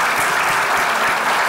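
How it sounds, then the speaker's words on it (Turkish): A television studio audience breaks into dense, loud, continuous applause from a crowd of many hands, steady throughout with no talk over it. "Alkışlıyoruz bir daha."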